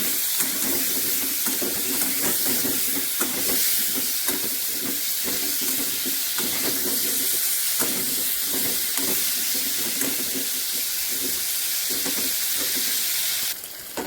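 Potato pieces frying in oil with salt and turmeric for a koi fish curry, a steady hissing sizzle with light crackle throughout, close and continuous, no talking.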